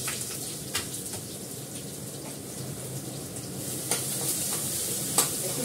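Garlic frying in a pan gives a soft, steady sizzle close by, with a few sharp utensil clicks and scrapes against the pan breaking through now and then.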